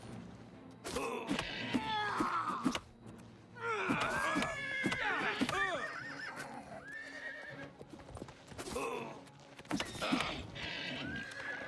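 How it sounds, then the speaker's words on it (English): Several game horses neigh and snort in bursts over rapid clip-clopping hooves, with loud, close whinnies recurring amid sharp impact sounds and no talk. "So many angry horses."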